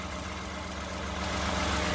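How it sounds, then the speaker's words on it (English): 2014 Toyota Avalon Limited V6 engine idling in an open engine compartment, a steady smooth low hum at close range, alone without talk. "Engine's purring along really nicely there."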